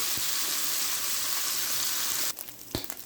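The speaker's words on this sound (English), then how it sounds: "We're going to break this up and let it cook for about 4 to 5 more minutes and it's browning real quick." Ground beef fries and browns in a skillet with a loud, dense, steady sizzle that cuts off abruptly, then a few soft scraping taps and quieter crackles follow, with no talking.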